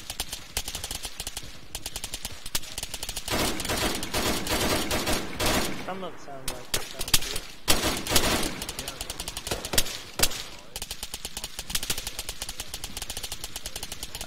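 Automatic machine gun fire in the military shooter Arma 3 rattles in long, dense bursts with short pauses. Sharp individual shots are interleaved, and a player talks briefly over the shooting.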